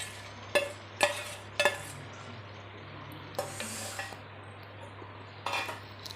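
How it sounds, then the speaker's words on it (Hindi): Okra added to fried masala in a pan, with a few sharp metal-on-pan clinks and scraping stirs, spaced and moderately loud over a low steady hum. "अब हम इसमें अपनी भिंडी डाल देंगे।"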